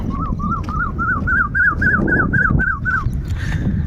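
A bird in farm fields gives a run of about ten quick, rising whistled notes in an even rhythm, loud and close, over a low background rumble.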